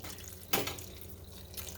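A carton of beef broth is poured over pork chops in a crock pot, giving a short, fairly loud splash that quickly fades into a low liquid wash.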